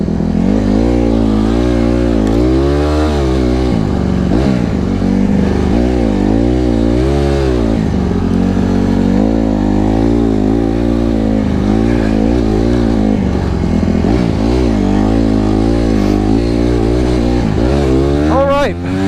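A street-legal Honda CRF150RB dirt bike engine revs loud and close, its pitch rising and falling in repeated surges throughout, running steady without a break.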